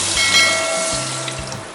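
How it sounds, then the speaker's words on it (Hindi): Water splashing as it is poured into a pot of rice for pulao, a short, close rushing pour with a few gurgling surges. "उसमें मैं 4 गिलास पानी ऐड कर रही हूँ।"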